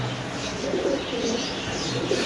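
Racer pigeons coo softly in a loft, low murmuring calls repeating over a steady background hiss, with no clear speech.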